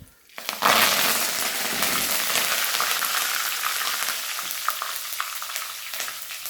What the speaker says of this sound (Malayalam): അതിലേക്ക് ഇനി നമുക്ക് കുറച്ച് ചതച്ച മുളക് ഒന്ന് ചെറുതായിട്ടൊന്ന് മൂപ്പിക്കാവുന്നതാണ്